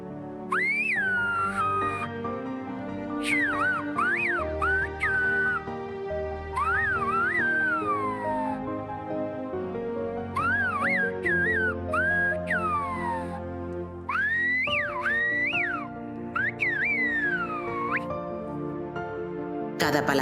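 Shepherds of La Gomera whistle in the Silbo Gomero whistled language, producing loud, sliding, warbling phrases in bursts with brief pauses. Music plays beneath them throughout.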